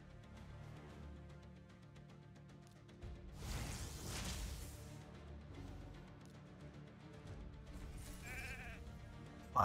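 A sheep bleats in the mobile game Summoners War, heard among game music, swooshing attack effects and crashes during an arena battle.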